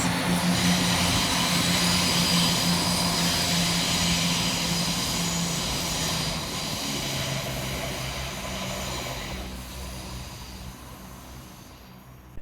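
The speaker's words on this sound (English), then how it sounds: "Whilst departed off in the opposite direction is 170-103, working the 12:45 cross-country service from Leicester through to Birmingham New Street." A Class 170 cross-country diesel unit pulls away from Nuneaton station with a steady engine drone and rumble that slowly fades over about twelve seconds, with no talk.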